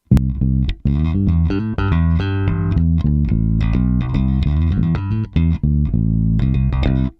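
Electric bass playing a busy riff of plucked notes, full and punchy with a pronounced midrange tone, heard alone and up close.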